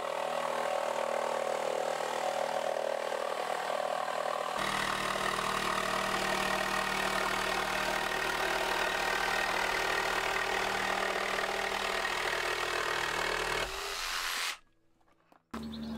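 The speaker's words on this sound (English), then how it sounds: "I'm now going to get this curve cut using the jigsaw." A jigsaw cuts a curve through a wooden shelf piece, a loud, steady motorised buzz running nearly unbroken close up, with a brief drop in pitch partway through before the blade stops near the end.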